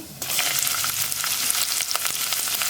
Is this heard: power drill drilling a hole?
no